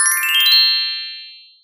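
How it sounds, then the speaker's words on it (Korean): A convenience store door chime sounds once, a bright jingling ding that rings out clearly and alone before fading away smoothly over about a second. "어느 날 오후 편의점에 벨소리가 울립니다."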